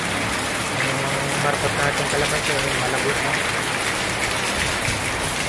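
Heavy rain pours steadily on a surface in a Philippine backyard vegetable garden, a dense constant hiss filling the whole stretch while someone talks over it.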